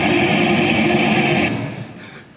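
Harsh, noisy guitar effect from a SoundBlox pedal, a loud dense wash of buzzing distortion that holds steady then fades and thins out toward the end, with no talk.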